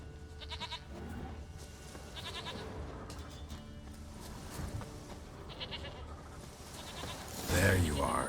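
A goat bleats repeatedly in Witcher 3, several short wavering cries spaced a second or two apart at moderate distance, over a low ambient bed with a brief louder rustle near the end.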